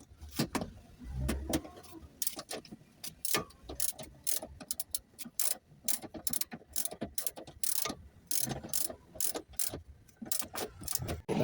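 Screws are worked loose from the fuel filter housing on a Mitsubishi L300 4D56 diesel engine, producing close, irregular metallic clicks, ratcheting and clinks of tools against metal, with quiet gaps between bursts.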